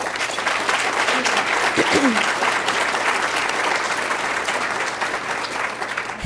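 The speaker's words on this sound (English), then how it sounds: "give everyone who serves on the front lines a big round of applause" An audience gives a big round of applause for front-line human services workers in Illinois, sustained dense clapping at a steady level with a brief faint voice mixed in.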